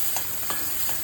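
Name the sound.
sautéing ground chutney paste in oil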